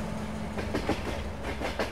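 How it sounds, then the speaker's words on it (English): A train rolls past in Farming Simulator 22 with a steady clickety-clack of wheels over rail joints. The rhythmic clacks repeat under a continuous low rumble, fairly close and moderately loud. "We get to see the train, folks."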